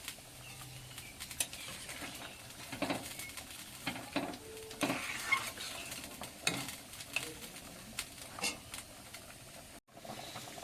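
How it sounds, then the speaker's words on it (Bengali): A catla fish curry bubbles in a pot as fish pieces and lentil dumplings go in, with soft sizzling and scattered clinks and scrapes of stirring close by, fairly quiet and irregular. "মাছের ঝোলটা ফুটে উঠেছে, এইবারে বড়ি আর মাছগুলো দিয়ে দেবো।"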